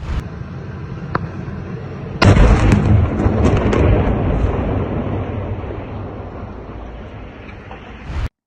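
Explosions from a strike on an Akhmat regiment base in Gudermes, Chechnya: a sudden loud burst erupts a couple of seconds in, followed by a long rumbling, crackling roar that persists to the end.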